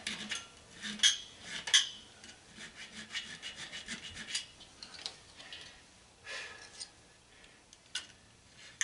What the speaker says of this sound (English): Do a file test here.